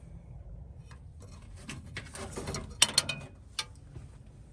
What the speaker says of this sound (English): disconnect my throttle cable, pull it out from the underside, from the other side